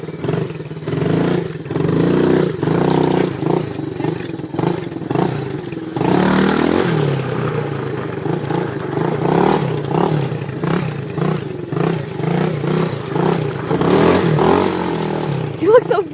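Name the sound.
dirt bike engine revving in first gear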